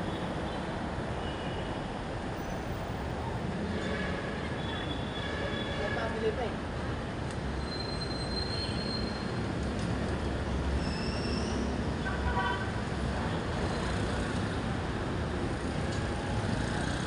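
An LRT train rumbles by near a station at the Shio Boulevard crossing, a steady, heavy roar with faint metallic wheel squeals and tonal whines along the way, continuous throughout amid outdoor traffic noise.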